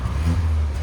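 A 2016 Kia Optima SXL Turbo fitted with a NETAM NTR race muffler gives a short, deep, steady engine drone as the throttle opens, quiet and low-pitched with no one talking.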